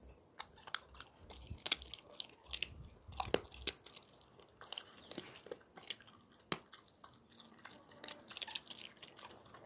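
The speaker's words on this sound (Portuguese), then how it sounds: "Tá comendo aqui uma cabecinha de sardinha, umas espinhas" A small dog eats a sardine head and bones, giving close, quiet, wet crunching and gnawing with irregular sharp bites and moist smacking throughout.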